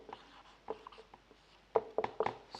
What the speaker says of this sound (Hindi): अब हेडिंग डालकर लिखेंगे